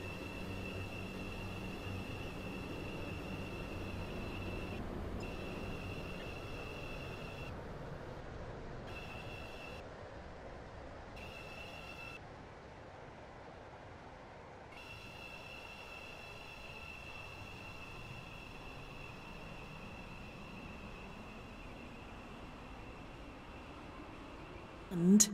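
In the video game SCR, a six-coach train's wheels rumble steadily for a long stretch, with a high metallic squeal running above it that fades in and out.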